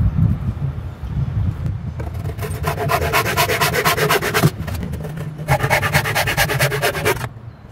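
Wooden framework of an old writing desk being sawn through, heard as steady back-and-forth rasping strokes in two close, fairly loud bursts with a short pause between them.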